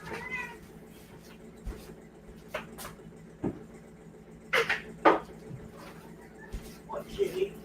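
A pet cat meows indoors: a few short, close meows come mostly in the middle and near the end, between soft household clatter and quiet background hum.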